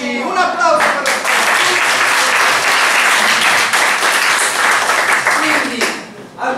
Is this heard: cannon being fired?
no